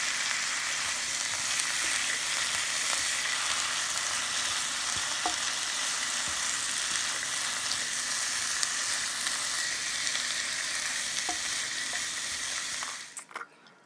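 Onions, carrots and spinach sizzle steadily in a hot pan while being stirred, a dense continuous frying hiss with faint utensil scrapes, ending abruptly.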